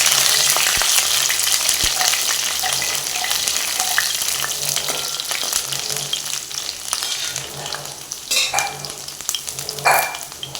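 Curry leaves sizzle and crackle in hot oil with ginger and garlic for a prawns roast, a steady loud frying hiss with bursts of sharper spattering and a faint clink of stirring near the end.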